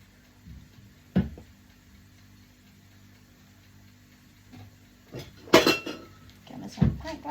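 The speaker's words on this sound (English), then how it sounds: "Get myself a pint glass." A pint glass clinks and knocks as it is taken from a kitchen cupboard, with a sharp glassy chink and rattling thumps amid quiet kitchen noise and a brief murmur of voice, while vegetable soup is being made.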